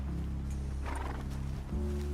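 Horses in the Red Dead Redemption 2 video game snort and shuffle close by, with a brief rough whinny-like burst midway under a steady low game soundtrack hum.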